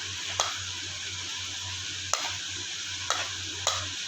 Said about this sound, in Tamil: இப்படி எண்ணெய் ஊற்றி நம்ம கிளறும்போது சாப்பாடு ஒன்றோட ஒன்று ஒட்டாமல் நல்லாயிருக்கும்.